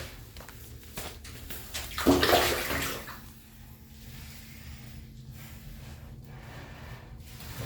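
Bath water splashes in a tub holding a Nile monitor, rising into a brief loud slosh and then settling to quieter movement and a steady background hiss.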